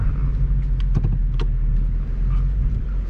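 A 2020 Ford Mustang GT with a 10-speed automatic gives a deep, rumbling engine drone, with a few brief sharper bursts near the start that could be gear changes, heard from inside the car without talk.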